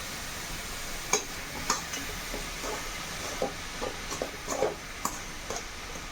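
Cabbage thoran being stirred as it fries in a pan, with a soft steady sizzle broken by a handful of sharp spoon scrapes and clicks at irregular intervals, close and fairly quiet, with no talking.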